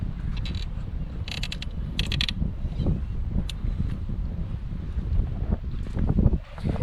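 An Italian-made paramotor engine runs at a beach in Sai Buri, a steady low drone mixed with gusty wind buffeting and a few brief high rattles, fairly close and moderately loud throughout.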